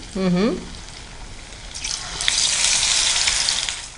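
Samosa pinwheels sizzle in hot oil, a loud, steady frying hiss that rises after a brief tone near the start and continues to the end.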